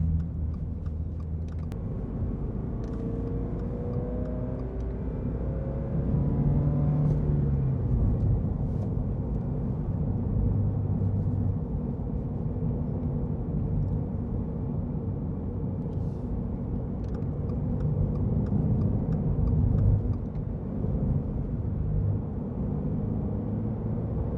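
Interior drone of a Subaru BRZ / Toyota GR86 manual sports car cruising in highway traffic, a steady low engine and road rumble with shifting engine tones and occasional faint clicks, no talking.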